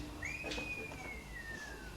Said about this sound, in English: Well, that's a whistle.